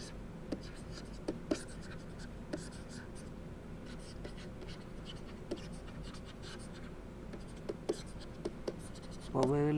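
A lecturer writes out the Weibull probability density function with short scratchy strokes and taps on a board, some sounds fainter than others, under soft background speech.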